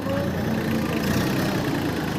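A steady, rumbling Massey Ferguson tractor engine idles close by at an agricultural exhibition, a continuous low drone with no break or change in pitch.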